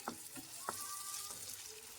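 Freshly made ginger garlic paste fries in a hot pan, a close, steady sizzle with a few soft knocks from stirring and no talking.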